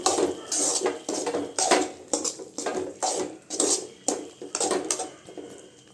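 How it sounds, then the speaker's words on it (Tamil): A utensil stirs coriander into a drumstick (murungaikai) stir-fry in a pan, giving repeated scraping clatters of metal on metal in an uneven rhythm, close and fairly loud, with no talking. "இப்போ மல்லி போட்டுக்கலாங்க போட்டு கலந்து விட்டுக்கலாம்"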